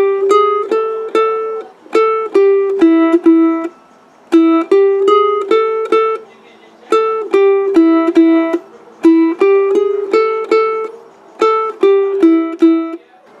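Plucked ukulele picking out a riff, a quick run of crisp single notes in repeating phrases with brief pauses between them, close, loud and steady throughout.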